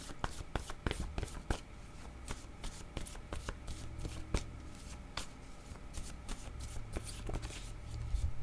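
A deck of word cards being shuffled up close, with repeated crisp riffles and flicks in irregular bursts against a quiet room, no speech.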